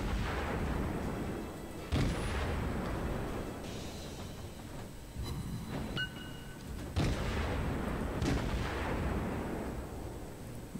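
Naval artillery from the video game World of Warships booms several times at irregular intervals, heavy blasts rising out of a constant roaring wash of battle noise.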